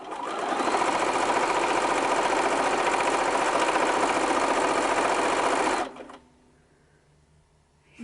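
Sewing machine stitching a zigzag across long fabric strips, a loud steady mechanical whir for nearly six seconds before stopping abruptly, leaving a quiet room.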